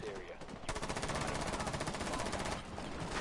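Rainbow Six Siege automatic gunfire: one steady, rapid burst of evenly spaced shots runs for about two seconds at moderate loudness, then cuts off into quieter game sound with a voice talking.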